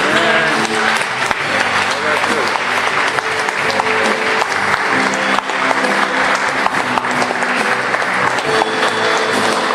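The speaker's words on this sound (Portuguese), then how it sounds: "Aplauda o teu Deus comigo" A church congregation applauds loudly and continuously, a dense steady wash of clapping with music and voices underneath throughout.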